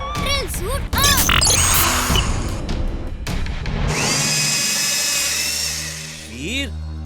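A cartoon robot boy's drill suit powers on with a loud, layered mechanical whir and rising electronic tones, after a burst of busy clanks and swooshes at the start.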